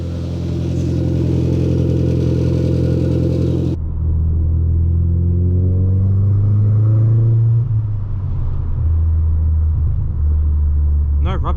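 A Volkswagen GTI hatchback driving, its engine a steady loud rumble whose pitch climbs through a gear as it accelerates and then settles, with road noise underneath.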